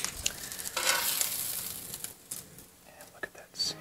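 A chuck eye steak sears in a pan with a faint crackling sizzle in short bursts, under soft nearby speech.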